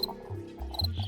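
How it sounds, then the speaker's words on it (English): A male house cricket stridulates by rubbing its hard outer wings together, giving a short, close, faint chirping against a quiet background. "They chirp or stridulate by rubbing together their two hard outer wings"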